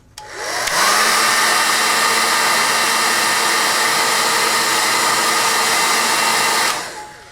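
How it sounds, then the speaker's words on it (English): A hair dryer, used to dry watercolor paint, switches on, blows with a steady loud whoosh for about six seconds, then cuts off. "when I dry it with a hairdryer"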